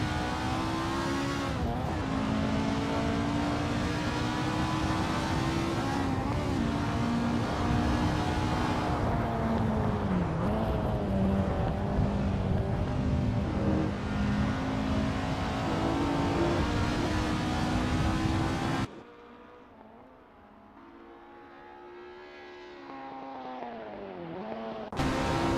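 Race car engines at Oulton Park International in Assetto Corsa, Escort 1600s: a loud, continuous droning engine note rising and falling with revs and gear changes, then dropping away suddenly to a quieter single engine toward the end.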